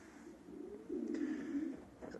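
Pigeons coo softly in a loft with dry natural litter on the floor, a low warbling murmur that swells in the middle and continues steadily for a couple of seconds.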